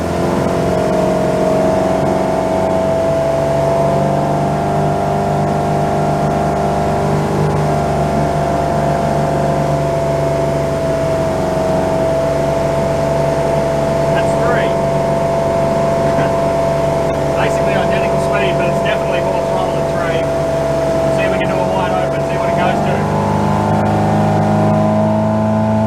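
Inboard engine of a 34ft Hartley timber boat running under throttle at about 2000 rpm, a loud steady droning hum with a constant tone, with people talking faintly over it.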